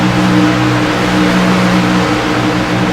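Stock car engine from a Ford Fusion racing down the front stretch at Kansas Motor Speedway, a steady loud roar with droning harmonics that holds constant throughout, no voices.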